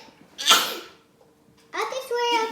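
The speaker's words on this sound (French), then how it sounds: "À tes souhaits." A single sharp sneeze bursts out near the start, close and loud, followed after a pause by a voice talking.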